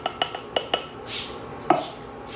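Canned fire-roasted diced tomatoes with garlic are knocked and scraped out of the can into a cast iron Dutch oven, giving several sharp, close clinks and taps in quick bursts, then one louder clank near the end.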